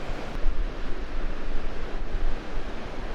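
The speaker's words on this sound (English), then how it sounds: "This is one of the half dozen or so, I'm guessing, artificial rapids built in here." Water rushes over artificial rapids in a Missouri trout stream at Bennet Spring State Park, a constant close roaring wash with gusty swells and no voices.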